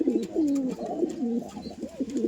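Brown pigeons kept for sale coo close by, a series of soft, low rolling coos repeating over about two seconds with faint background noise.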